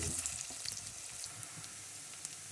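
Tuna pieces frying in a pan until golden brown, a steady soft sizzle with faint crackles and occasional utensil clicks, close and fairly quiet with no voices.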